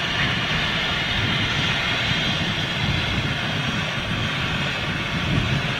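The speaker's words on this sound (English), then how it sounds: "So this is quite a significant aircraft then coming out now." A jet aircraft at London City Airport gives a steady, loud broadband engine roar that stays even and unbroken throughout, heard from a distance with no voices.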